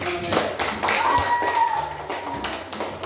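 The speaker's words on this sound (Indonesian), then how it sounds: "silakan kembali kita semua tepuk tangan" An elementary-school class of sixth graders claps for a group's finished work, an uneven, close patter of small hands lasting a few seconds, with some voices mixed in.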